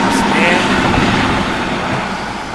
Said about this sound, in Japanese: この電車が走っているってことは池袋線ですね。